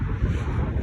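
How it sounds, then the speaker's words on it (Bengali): Strong wind along an open riverside lined with large buildings, heard as a loud, low, continuous buffeting rumble against the microphone throughout this brief moment. "বাতাস আর বাতাস।"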